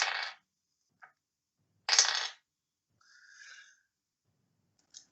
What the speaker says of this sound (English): It's a very excited dice.